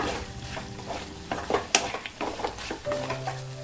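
Spicy Andhra-style Guntur chicken frying in a pan, heard as a close, steady sizzle broken by spatula scrapes and clinks against the pan, with no talking.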